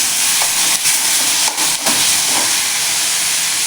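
Onion and tomatoes fry in a pan with a loud, continuous steamy hiss and sizzle close up, broken by a few short stirring scrapes and bursts.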